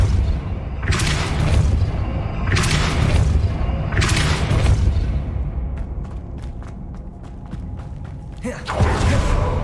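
A Depulso spell cast in Hogwarts Legacy on Xbox, producing repeated heavy booming blasts with creaking, mechanical rumble between them, followed by a run of sharp clicks before a final loud burst.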